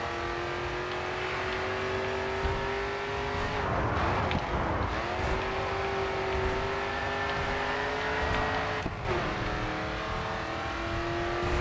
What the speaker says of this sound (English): Downshifting right before the turn sure sends you into quite the drift.